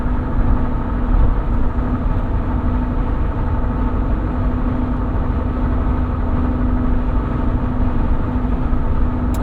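A 2022 Jeep Wrangler Unlimited Willys cruising on the highway in sixth gear, its steady engine drone and road rumble loud and continuous from inside the cabin, with no talking.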